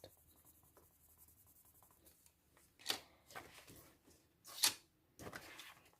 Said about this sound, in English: It starts to get that wax sound way quicker than the other three pencils.